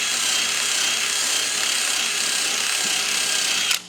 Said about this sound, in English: All right, I just got a wire wheel on the drill.